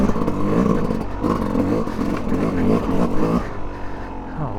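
Yamaha YZ250X two-stroke enduro dirt bike ridden along a technical trail, engine revving up and down in close, loud pulses with rattling clatter from the terrain.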